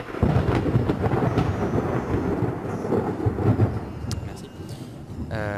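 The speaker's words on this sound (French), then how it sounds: "De la pluie et tout ça, donc c'est un petit peu plus mieux." Minecraft resource pack rain pouring steadily with deep rolling thunder rumbling underneath, loud and continuous, with a few brief higher tones near the end.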